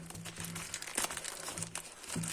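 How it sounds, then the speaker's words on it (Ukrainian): A taped parcel from AliExpress being opened carefully by hand, with close, continuous crinkling and rustling of plastic wrapping and tape, plus a few sharper crackles and pulls, no talk. "Так треба акуратно, бо не порізати посилку."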